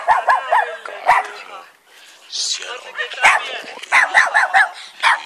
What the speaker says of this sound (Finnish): Koko kylän koirat oli yhtä aikaa äänessä.